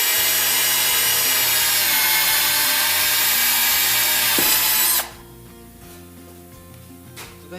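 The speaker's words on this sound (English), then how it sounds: "take your hole saw, make sure that you clear the thread and the seal" A hole saw on a power drill bores into poly pipe to fit a rural tapping saddle. The loud, steady, close-up whine holds for about five seconds, then stops abruptly, leaving quiet background.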